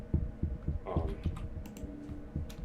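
Rapid, soft key taps on a computer keyboard entering numbers, close and steady over a low thumping background.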